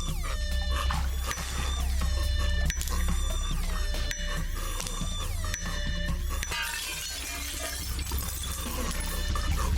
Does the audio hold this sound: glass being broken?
yes